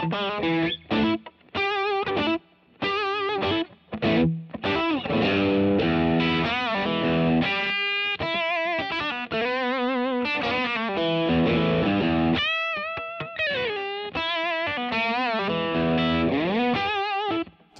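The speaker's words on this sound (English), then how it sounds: "Now let's add a little bit of distortion to hear what this beast sounds like." A 1959 Fender Telecaster relic with a broadcaster-style bridge pickup, played through distortion: continuous overdriven chords and single-note lines ring out loud and sustained, with brief gaps between phrases.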